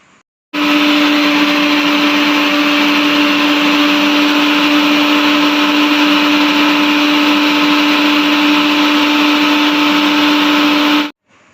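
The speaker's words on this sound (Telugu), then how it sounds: "వాటర్ వేసుకొని మళ్ళీ గ్రైండ్ అయితే చేసుకోవాలి" A mixer grinder blends pomegranate juice with a little added water, a loud steady motor whir with a strong constant hum that runs unbroken for about ten seconds, then cuts off abruptly.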